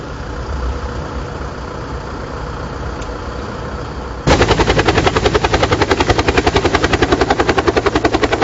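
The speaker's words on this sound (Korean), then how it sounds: "국군 수도병원으로 또 한 대의 헬기가 착륙합니다." A helicopter lands at a military hospital, starting as a muffled steady engine drone and then switching abruptly to a loud, close, rapid rotor thumping.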